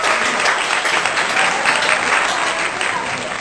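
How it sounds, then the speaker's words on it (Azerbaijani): A 7th-grade class applauds in a classroom: dense, continuous clapping from many hands that holds steady for several seconds. "Bəli, sən alqışlayırıq."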